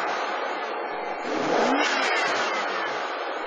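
A car engine with over 174,700 miles runs steadily nearby with a brief swell in the middle, loud and continuous, with no voices.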